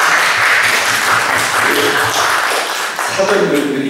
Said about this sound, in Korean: 엄마 아빠 모시고 왔는데 박수 한번 쳐드릴까요?